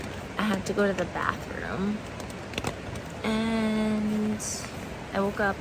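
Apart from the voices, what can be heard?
rain falling at night on the trail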